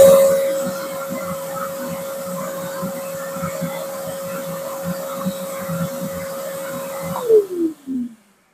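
A Craftsman 4.25 horsepower machine runs on a solar generator, a steady motor whine with a droning hum that holds evenly, then winds down and stops; loud and close.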